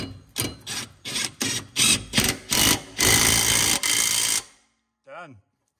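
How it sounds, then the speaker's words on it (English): An Ingersoll Rand Atomic half-inch impact wrench fires in a string of loud, rapid rattling bursts, then one longer continuous hammering run before stopping. A brief voice follows. "So I got my little atomic half inch impact here."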